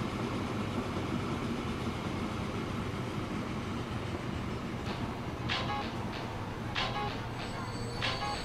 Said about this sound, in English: We'll watch the small little fuel train here pull into Centennial as we roll that intro